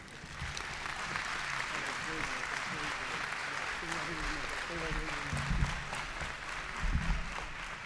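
A university convocation audience at Delaware State applauds in a long, even wave of clapping, with voices talking over it and a few louder bumps near the end.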